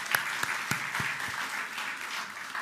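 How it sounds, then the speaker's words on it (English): A graduation audience applauds the teachers with steady, moderately distant clapping, while a few sharp, close individual claps punctuate the first second. "So how about a round of applause for these people up here tonight?"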